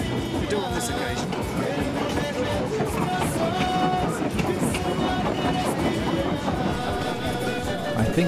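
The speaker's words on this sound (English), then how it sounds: "It's not often the trains run down the middle of the high street, but we do on this occasion." A train rolls through the middle of a high street in Peru, with a continuous rumble and rhythmic wheel clatter close by, while people chatter nearby.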